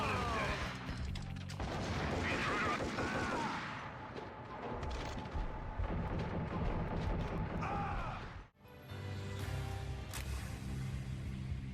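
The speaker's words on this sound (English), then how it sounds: "The moody soundtrack and the punchy gunfire sound effects pull you right into Max's world" Gunfire sound effects from Max Payne (2001), dense overlapping shots and impacts over a moody soundtrack, a short silence near the end before the shooting resumes.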